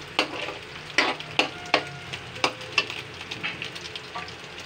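Ground meat fries in a pan for sopas, with a steady sizzle under sharp, rhythmic scrapes and knocks of a spoon stirring it, close and fairly loud, with no speech.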